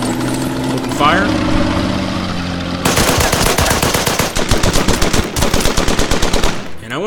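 A Vickers machine gun in the wargame Order of Battle opens fire in a loud rapid burst of repeated shots after an engine-like drone, with a voice speaking briefly over the start.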